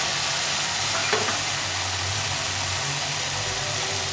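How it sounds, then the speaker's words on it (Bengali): Cauliflower and peas frying with salt in a pan, a dense, steady close sizzle with a low background hum and one faint stir, no voices. "দিয়ে এটাকে ভালো করে ভেজে নেবো"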